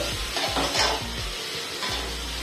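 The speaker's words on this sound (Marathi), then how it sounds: "छान आता तो परतो द्यायचा आपल्याला, जास्त लाल पण नाही होऊ द्यायचा आहे" Spices sauté in a hot pan, soft sizzling broken by a quick run of scraping stir strokes from a spatula against the metal.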